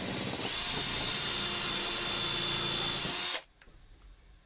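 A power drill with a pilot bit bores a pilot hole in timber for a large nutcracker build, whining loudly and steadily for about three seconds before cutting off abruptly.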